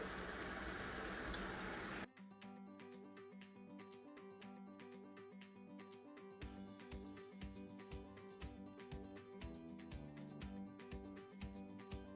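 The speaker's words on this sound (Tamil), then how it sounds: "எடுத்து வச்சிருக்கிற சுடுதண்ணியில் கொஞ்சம் சேர்க்குறேன்." Hot water poured into rava upma in a home kitchen gives a loud, hissing, bubbling burst for about two seconds, then rhythmic background music takes over.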